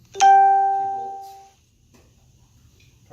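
A single bright electronic chime, like a phone notification, rings out once and decays over about a second in an otherwise quiet garage space.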